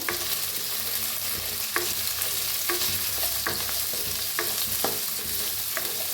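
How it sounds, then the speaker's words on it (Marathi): Chopped onion, garlic and ginger crackle and sizzle in hot oil, a dense, close frying hiss running throughout with sharp scraping knocks from a spoon being stirred every second or so. "थोडा कांदा कापून घेतलेला घालूया लसूण बी अद्रक बी हलवून भाजून घेऊया"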